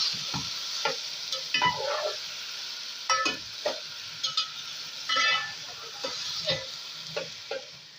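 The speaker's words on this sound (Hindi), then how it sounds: "हमने जो है आलू को 2 मिनट के लिए फेर लिया हुआ है" Potatoes stir-fried in a pan over medium-high heat for aloo bhujia, with steady sizzling broken by repeated scraping and stirring strokes of a spoon against the pan, close and alone.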